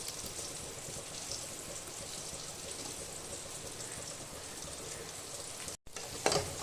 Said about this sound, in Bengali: আমি এখানে খুব সামান্য বাটার এর মধ্যে দিয়ে দিচ্ছি